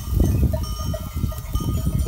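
A flock of sheep let out to graze on a high mountain pasture, with several overlapping bleats from nearby and farther animals and a faint bell clinking, over a dense shuffling, rustling background.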